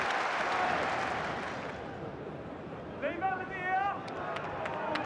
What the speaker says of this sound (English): the cheer goes up from their supporters this time